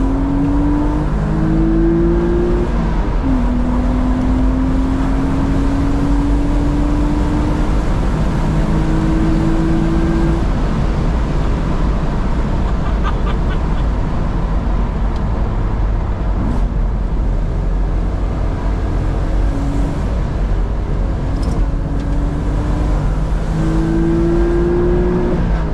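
A £1900 Porsche Boxster is driven with the roof down and the stereo off, its engine droning steadily and rising in pitch as it revs through the gears amid road and wind noise.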